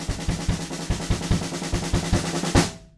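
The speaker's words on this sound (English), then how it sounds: "the very last fill, which is just 16th notes with that kick drum pattern still going" A drum kit plays a closing fill of steady 16th notes while the kick drum pattern keeps going underneath. It ends on an accented hit that rings out and fades, with no voices.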